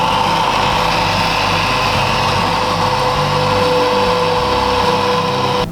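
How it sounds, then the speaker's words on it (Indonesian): A simple grating machine shreds peeled ginger, giving a loud, steady motor whine with a continuous rough grinding rasp that holds throughout, close and alone without talk. "jahe ini akan diparut menggunakan mesin parut sederhana."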